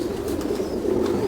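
Pigeons coo in a steady low murmur, a continuous mellow throaty hum from several birds close by, with no talking over it.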